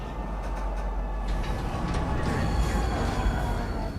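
A train arriving at a spaceport station in the Star Citizen video game, a steady rumbling mechanical roll with low hum and faint clatter, continuous and fairly loud throughout.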